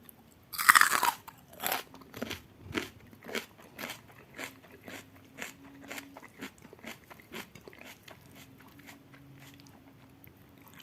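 Crisp, loud crunching of fried onion crackers being bitten and chewed, starting with a sharp bite and settling into a steady rhythm of close, repeated chews with no talking.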